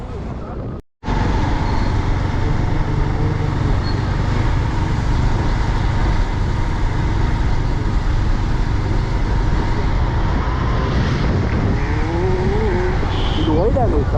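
Steady roar of road traffic near Besant Nagar beach in Chennai, continuous and fairly loud, with passing vehicle hum throughout and a brief dropout near the start.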